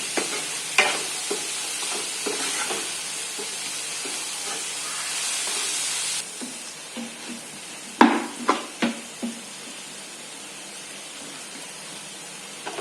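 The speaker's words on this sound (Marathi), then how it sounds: "परतून घेऊन ह्याच्यामध्ये कोथिंबीर पण थोडीशी परतून घेणार आहे आपण." Coriander sautéed in oil in a pan: a soft continuous sizzle with occasional scraping stirs, a few louder clatters of the spoon near the middle, all close and without voices.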